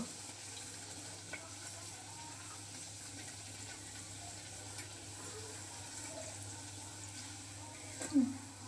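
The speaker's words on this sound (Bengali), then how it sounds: "দেখেন পুরিটা কত সুন্দর করে ফুলেছে এরকমভাবে সবগুলো ভেজে নেব" Dal puris deep frying in oil, a low, continuous bubbling sizzle heard fairly faintly with a few small knocks and a slightly louder clatter near the end.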